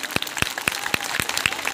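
Audience at a DJ dance event in Bhutbeda, Mainpur clapping in a steady rhythmic beat, sharp close claps evenly spaced about four times a second over a low crowd hubbub.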